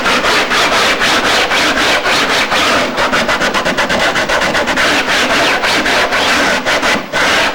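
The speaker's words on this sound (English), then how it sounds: "And the rest of it I'm going to lightly sand" A molded model aircraft wing is sanded by hand with rapid, loud back-and-forth rasping strokes in a steady rhythm up close, without speech.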